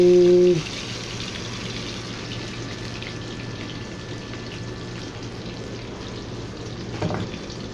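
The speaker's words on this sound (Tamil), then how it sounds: "மூணு மீனையும் பொட்டாச்சு பொரியட்டும்" Three fish fry in hot oil with a soft, steady crackling sizzle after a short tonal sound at the start, a faint brief clatter near the end.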